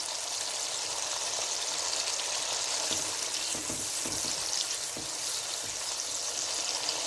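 Masala for bhindi sabzi sizzles steadily in a pan, a constant close hiss broken by occasional scraping stirs, with no talk.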